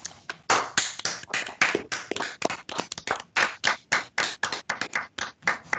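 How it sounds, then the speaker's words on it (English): Applause for sociology honor society honorees at an induction ceremony, a small group clapping in sharp, irregular bursts at close range, with no talk. "Please join us in a round of applause for our 2020 honorees"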